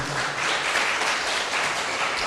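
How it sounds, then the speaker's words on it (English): A conference audience at a science and applied physics event applauds the speaker, with steady, fairly loud many-handed clapping that fills the room throughout. "Again, please applause for the speaker."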